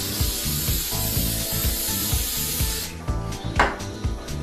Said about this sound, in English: You spray it with your cooking spray.